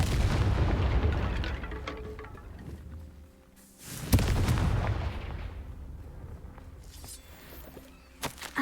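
The Confringo blasting spell explodes in a fantasy video game: a loud, deep booming blast rolls out and fades, a second big explosion follows, then a few smaller thuds close out the sequence.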